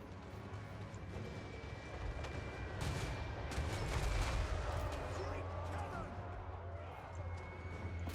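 Hochland long rifles firing in a strategy video game, a clatter of distant overlapping gunshots and volleys over a low rumbling battlefield bed, with a voice talking throughout.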